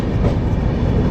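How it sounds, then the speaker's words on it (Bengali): The Gatiman Express rolls into Agra Cantonment station with a loud, close, continuous rail rumble and steady wheel noise, heard alone. "আমরা এখন ঢুকছি হলো আগ্রা ক্যান্টনমেন্ট স্টেশন"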